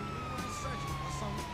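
An ambulance siren in the video game GTA Online sounds in a steady, slowly falling wail with pulsing overtones, moderately loud over a low engine drone, with no one talking.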